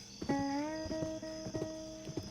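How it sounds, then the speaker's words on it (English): A horse in a Western video game moves along with clip-clopping hoofbeats, joined by a rising and falling whinny-like tone and game music; steady and close, with no talking. "You run around with your horse."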